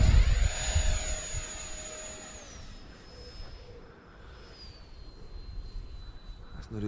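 An FMS 64mm Folland Gnat RC jet on its maiden flight whines overhead with a high electric ducted-fan tone that shifts pitch as it passes and fades into the distance.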